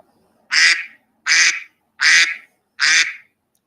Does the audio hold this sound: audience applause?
no